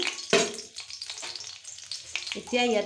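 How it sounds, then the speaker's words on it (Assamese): Cinnamon and cardamom being stirred in hot oil for a local chicken dish: a close, crackling sizzle with scraping spoon strokes that swells again near the end. "এইখিনি অলপমান লৰাই দিম"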